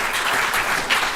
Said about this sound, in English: yes, go ahead and clap for that.